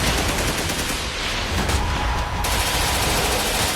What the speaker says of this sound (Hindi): हाईटेक मशीन गनों से लैस आतंकी लड़ाकों ने बिस्मिल्लाह मोहम्मदी के घर पर अंधाधुंध फायरिंग की।